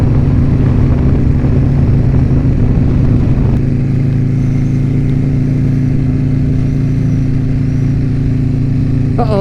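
A Triumph motorcycle, ridden fast, passes loudly with a strong engine roar that drops to a steadier humming drone as it moves away; a brief voice or whistle is heard at the very end.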